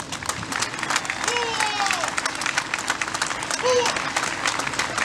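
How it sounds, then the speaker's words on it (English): Audience applause at a Stephen Siller Tunnel to Towers event in South Carolina, welcoming a family member to the podium; continuous clapping from a crowd with some voices and whoops mixed in. "So please give me a round of applause and welcome Mrs. Rawl"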